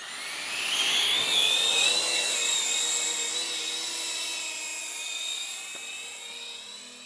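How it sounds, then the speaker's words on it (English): An FPV drone fitted with a DJI O3 Air Unit and a full-size GoPro Hero 11 lifts off in a forest, its propellers giving a loud, steady high-pitched whine that swells at launch and then holds as it flies away. "I'm gonna take off towards you. 3, 2, 1, launching."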